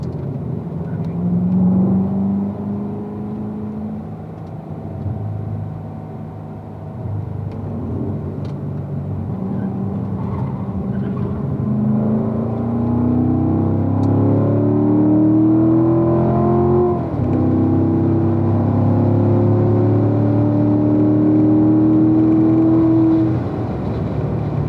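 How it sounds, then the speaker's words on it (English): A car accelerates at full throttle on a racetrack. The engine note rises steadily through several climbing pulls, loud and close, with a brief dip midway, and there is no speech. "squeeze the throttle a little bit, all the way down."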